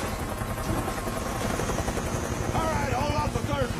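A military helicopter in a war film gives a steady, loud rotor thump throughout, with shouted voices over it.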